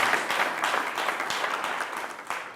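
Audience applause for a musical group of chantres: dense, steady clapping from a crowd, sustained and even for a couple of seconds.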